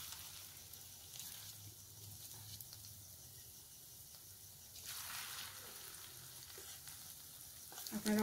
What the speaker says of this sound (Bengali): ম্যারিনেট করে রাখা যে পনিরগুলো, ওগুলো এখন আমি ভেজে নেব